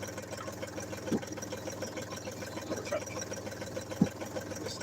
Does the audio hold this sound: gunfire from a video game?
no